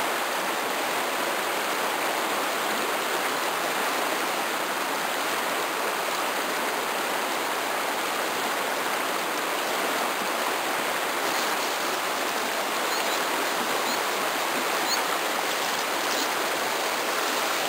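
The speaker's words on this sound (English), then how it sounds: "let me get the water turned on" Water runs steadily into a tub, a constant broadband rushing that stays even and fairly loud for the whole stretch with no talking.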